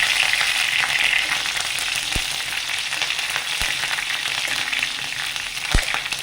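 Curry leaves and green chillies sizzle steadily in coconut oil for upma, loud and close, with a few sharp pops cutting through the continuous hiss; no talking.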